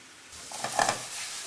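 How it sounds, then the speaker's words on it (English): Onions frying over high heat in a pan for ginger pork give a brief, close sizzle that rises with a quick stir of the spatula. "there's your onions going through there. Let that cook down a bit. Nice high heat."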